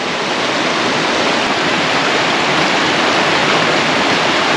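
Tumalo Falls near Bend, Oregon, a loud, steady waterfall roar, dense and unbroken throughout with no voices.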